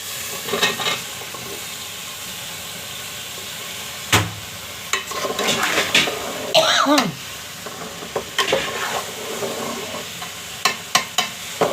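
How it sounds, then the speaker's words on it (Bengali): Vegetables sautéing in oil in a pan for a rohu fish curry with cauliflower and green tomato, a low sizzle broken by loud stirring scrapes and a brief cough or throat-clearing mid-clip. "এখন আমি ওই সবজি দিয়ে কষাবো"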